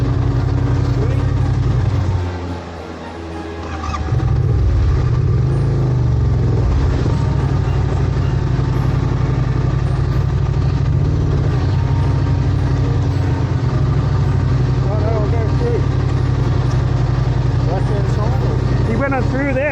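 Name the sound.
adventure motorcycle engine kick-started and throttled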